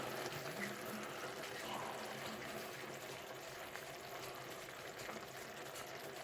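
Barbecue sauce pours steadily into a pan of blackberry pork steaks, a continuous soft wet hiss with no talk over it.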